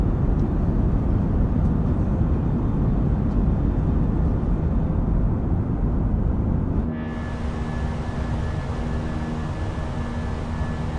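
Fenix A320 airliner climbing after takeoff in Microsoft Flight Simulator, a loud, steady broadband engine roar that drops to a quieter, smoother hum with a faint whine partway through.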